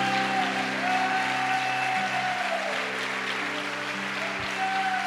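A church congregation claps steadily during a sermon over sustained background music, the applause filling the whole stretch.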